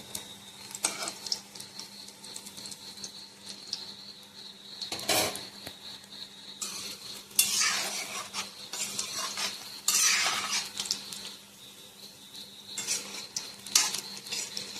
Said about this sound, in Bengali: আস্তে আস্তে জাল দিয়ে ভাজতে হবে।